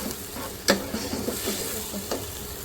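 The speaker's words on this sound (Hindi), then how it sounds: "इसके अंदर ये मैं डाल रही हूँ 2 चॉप किए हुए बड़े टमाटर" Chopped large tomatoes hit a pan of hot oil with a sharp splash, then stir with steady scraping and a continuous close sizzle, while cooking Delhi-style shola.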